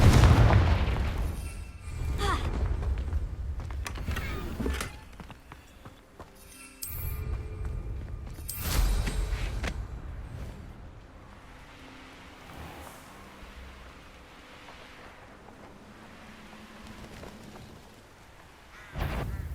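A Confringo fire spell explodes in the Hogwarts Legacy video game, with heavy booming bursts at the start and again midway, each followed by rumbling decay, then quieter game ambience.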